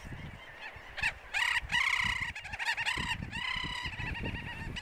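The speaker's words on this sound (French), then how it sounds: "Des milliers d'oiseaux se livrent à des courses fulgurantes atteignant les 70 km/h." Thousands of Arctic birds flock over sea cliffs, a dense chorus of loud honking and squawking calls overlapping continuously, some close and some farther off.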